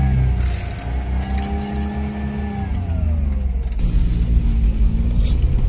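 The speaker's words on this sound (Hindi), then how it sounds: "यहाँ पर गाड़ी बहुत ही इजिली चल रही है" Car engine hums steadily while the vehicle moves slowly in first gear, a continuous low drone with a faint rising whine, close and even throughout.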